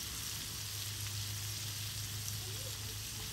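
Sardines grilling over a wood fire, a steady close sizzle and crackle with continuous fine hiss and no talking.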